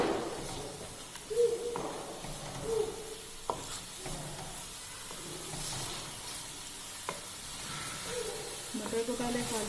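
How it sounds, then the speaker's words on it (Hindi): Green peas dry-roasting in a pan over raised heat for aloo matar give a soft, steady sizzle with occasional stirring scrapes and brief clinks, fairly faint and continuous, with a faint birdlike chirp in the background. "मटर को पहले खाली आपने भून लेना"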